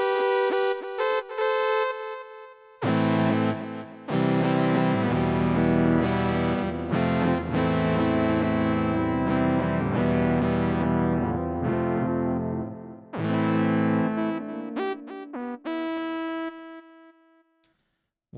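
Boss GM-800 guitar synth playing a choir-like synth voice with echo effect, sustained distorted chords and note runs whose repeats trail off, loud and continuous without speech.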